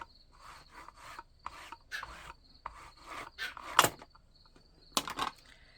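A cloth ink pad rubbed onto paper in a card-stamping craft session, producing short scratchy swishing strokes in an irregular rhythm, close and fairly quiet, with a couple of sharper louder scrapes.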